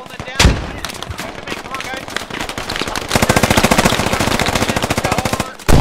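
Gunfire in the tactical shooter Squad with British Army weapons, a single heavy shot followed by sustained rapid automatic bursts, loud and close, with distant shots mixed in.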